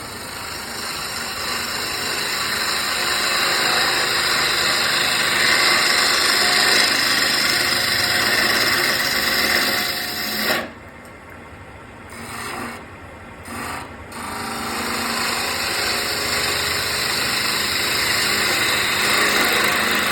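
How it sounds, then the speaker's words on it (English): A small bowl gouge cuts wood on a lathe, a continuous close rasping scrape that breaks off briefly twice before resuming, with a steady motor hum underneath. "I'm going to go ahead and just use a small bowl gouge to start with. See how it cuts."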